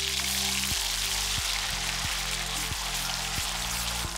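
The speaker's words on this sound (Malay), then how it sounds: "Tumis bahan kisar sampai naik bau wangi dan pecah minyak." Blended spice paste sautéing in hot oil in a wok while cooking chicken satay with peanut sauce, giving a steady, dense sizzle and crackle throughout with a low hum underneath.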